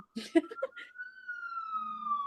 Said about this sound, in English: Okay, so who's got the siren?